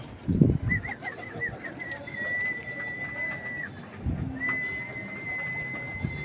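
Pigeons coo in a loft in repeated low bursts, loudest near the start and again around four seconds, with a thin steady whistle-like tone above and soft rustling between.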